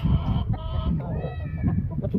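A rooster crows and clucks up close, its harsh calls mixed with scuffling and low background noise.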